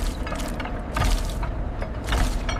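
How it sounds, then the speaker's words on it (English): A rotary dryer drum with lifting fins tumbling coffee grounds through hot airflow, a continuous mechanical rumble with rhythmic ratcheting, clattering swells roughly every second. "Inside the dryer, lifting fins tumble the coffee grounds through hot airflow."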